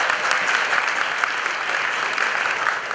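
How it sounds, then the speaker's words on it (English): Audience applause at a school graduation ceremony, a steady, dense wash of many hands clapping that holds evenly for the full stretch without pause. "Can we give ourselves a round of applause, please?"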